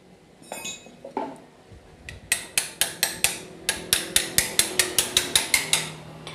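Repeated ratcheting clicks of a wrench working on bolts of an L300 diesel engine, starting sparse and settling into an even, rapid series of sharp metallic snaps close by.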